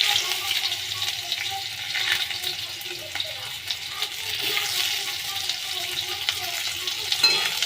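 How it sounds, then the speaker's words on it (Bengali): Onions fry in a pan for a taro and potato curry, producing a continuous close sizzle with soft stirring scrapes and occasional crackles. "এবার পেঁয়াজগুলো দিয়ে আমি একটু ভালো করে এটা ভেজে নেব"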